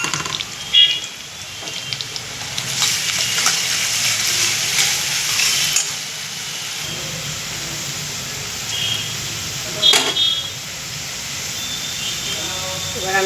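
Garlic and chili fry in oil for a chicken curry, giving a steady hissing sizzle that swells in the middle and continues with occasional clinks while a person talks over it.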